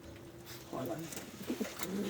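A twelve-year-old Adana native pigeon coos in brief, low, rolling phrases, close by and moderately loud, while someone talks quietly nearby.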